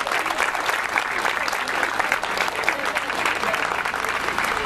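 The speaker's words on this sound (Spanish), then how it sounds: "El aplauso para los chicos del Centro Cultural Creciendo con lo Nuestro" Steady, dense audience applause for the children of the Centro Cultural Creciendo con lo Nuestro at a 2010 tribute held at Estación Faro, sustained and even in loudness from start to finish.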